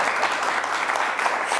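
An audience bursts into a brief, dense round of clapping in honour of visitors to Rwanda on a television programme, steady and fairly close for under two seconds.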